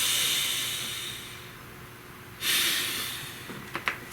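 A slow, deep breath drawn close to the microphone over a steady airy hiss, ending with a few soft clicks and taps.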